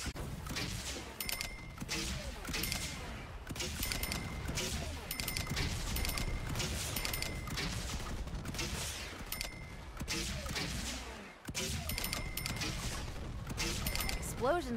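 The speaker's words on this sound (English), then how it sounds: "Explosions look so pretty at night." Dense, continuous bursts of gunfire and crashing explosions at night in Saints Row, loud and close, with mechanical clatter and occasional voices mixed into the chaotic game soundscape.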